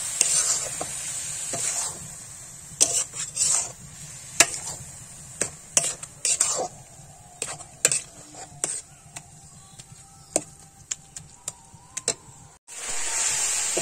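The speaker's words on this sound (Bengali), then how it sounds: "এবার আমি এর মধ্যে নারকেলটা দিয়ে দিলাম, ভালো করে নেড়ে মিশিয়ে নেব।" Grated coconut for naru is stirred in a pan with irregular scraping strokes and clinks of the spoon against the metal, over a faint steady sizzle.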